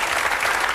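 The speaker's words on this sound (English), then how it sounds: "Anthony, give him a nice round of applause." A comedy club crowd at a late-1980s stand-up show applauds in a brief, dense burst of many hands clapping, loud and continuous for under a second.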